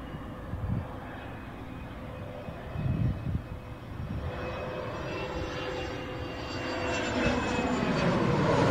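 A jet airliner landing in Manchester gives a steady engine roar that swells and grows louder over several seconds, with a faint high whine on top and no talking.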